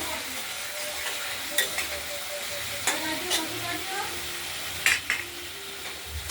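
Spice paste frying in oil for a katla fish and potato curry, a steady sizzle with a spoon scraping and clinking against the pan at irregular intervals, close up.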